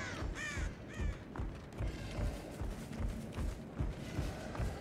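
Crows cawing in the Dead by Daylight video game, several harsh caws in the opening second followed by repeated low thumping steps, heard fairly faintly.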